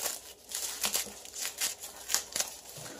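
Stiff wrapping paper crinkles and rustles in repeated bursts as a package is unwrapped up close, with no talking.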